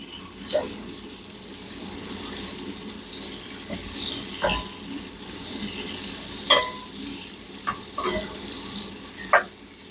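Onion sizzling in hot bacon grease, a steady close frying hiss with occasional louder crackles and the scrape of stirring, no talk.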